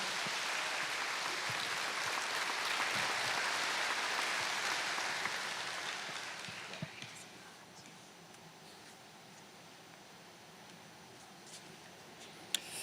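Audience applause during a church worship service, a dense, steady clatter of many hands that swells for several seconds, then fades to sparse scattered claps.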